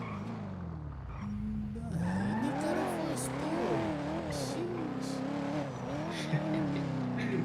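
A car engine drones and climbs through rising, falling revs, with a faint squeal of tires; voices talk over it in the background.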